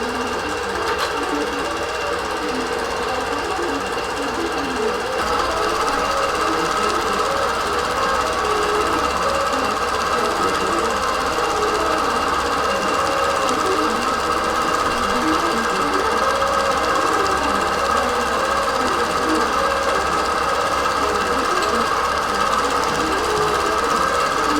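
A longarm quilting machine stitches a Meandering Jasmine pantograph across the full width of a quilt. It makes a constant, loud mechanical hum with rapid needle chatter, steady and unbroken, with no voices.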